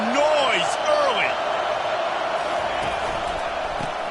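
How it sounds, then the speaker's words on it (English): Stadium crowd at a football game roaring steadily, a dense sustained wash of cheering throughout, with a commentator-like voice and whistle-like calls rising briefly above it. "This crowd bringing the energy and noise early."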